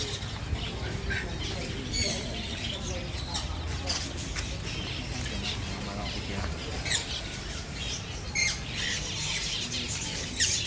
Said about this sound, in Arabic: طيور الزينة.